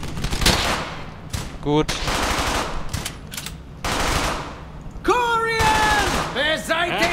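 Sustained machine-gun fire in Brothers in Arms: Hell's Highway, rapid bursts crackling near and loud across the whole stretch with short gaps, interrupted by shouted voices and a whistling, wailing effect late on; someone speaks briefly.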